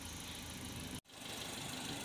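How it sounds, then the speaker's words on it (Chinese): Ten-year-old Wuling Rongguang van idling after oil-leak repairs, a faint, steady low engine hum with a brief dropout partway through, no voices present. "现在这个发动机着火已经有一会儿了"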